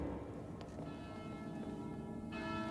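A church-style bell tolling in a TV episode, a low sustained ringing tone that lingers under a quiet background, with a second stroke arriving near the end.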